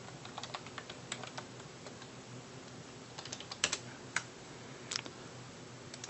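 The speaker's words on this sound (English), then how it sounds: "type in BackTrack" Quiet, irregular keystrokes on a computer keyboard, with soft clicks in short bursts and scattered single taps close by in a calm room.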